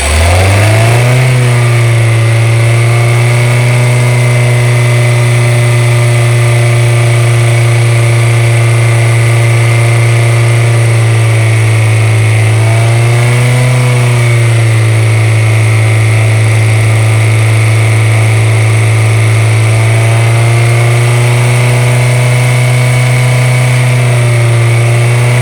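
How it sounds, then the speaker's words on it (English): A 2018 Hyundai Accent with a 1.6 L engine and a cylinder 3 misfire cranks and catches, then runs at a loud, steady idle close by, with slight dips in its drone and no one speaking. "So we're gonna start the car."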